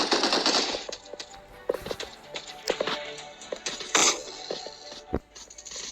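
Gunfire in a shooting video game: rapid bursts of sharp shots in uneven clusters, with scattered single cracks across the stretch, loud and close against a busy background.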